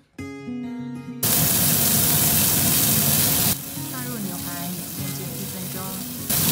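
Costco beef short rib steak seared in olive oil in a pan over high heat; after a short tonal opening, a loud, steady broadband sizzle fills the rest, with no talking.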